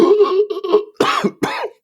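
A voice imitates a cough: a drawn-out vocal sound, then two sharp, raspy bursts close to the microphone.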